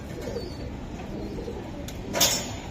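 Budapest racing pigeons coo in low, murmuring tones at close range, with a short sharper call near the end and no talking.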